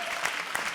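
Studio audience clapping loudly and steadily for the comedy show's entrance of Shakeel and Urvashi, a dense, continuous burst of applause with no talk over it.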